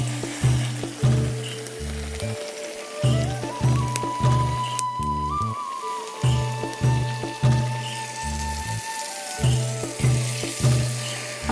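Chicken sizzles and fries in a pan while a little water is added, a steady close hiss under a repeating rhythmic pulsing that runs all the way through, with no talking.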